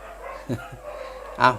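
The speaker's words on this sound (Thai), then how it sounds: "เนี่ยหมาเห่าหมาหอน" A couple of short dog barks, one soft and one louder near the end, with faint howling between them.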